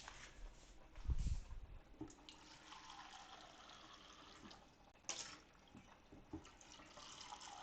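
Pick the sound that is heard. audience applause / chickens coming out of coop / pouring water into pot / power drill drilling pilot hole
pouring water into pot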